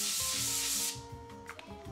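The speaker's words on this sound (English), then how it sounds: "I am gonna spray my basket though." Cooking spray is applied to an air fryer basket in one steady hiss lasting about a second before it cuts off, with soft music continuing underneath.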